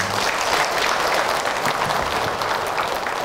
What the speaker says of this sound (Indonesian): Tepuk tangan ibu untuk akhir.